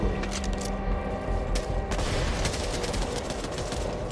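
Gunfire in the zombie shooter Back 4 Blood: a loud burst of rapid shots up front, then scattered cracking reports and echoing booms continuing close by through the rest.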